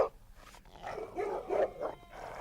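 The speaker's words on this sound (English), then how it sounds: "As the dogs snarled" Sled dogs on an Antarctic expedition snarl and yelp in short, uneven bursts, moderately close over a quiet background.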